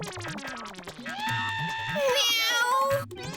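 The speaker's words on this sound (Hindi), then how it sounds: "बिल्ली 2 दिन से हमारे विंग में घूम रही है" A cat wandering a residential apartment building wing gives drawn-out meows that rise and fall, close and fairly loud, mixed with people talking over them in a television comedy scene.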